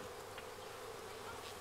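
Dense, steady buzzing of many honey bees in a hive close by, a continuous droning hum with no voices.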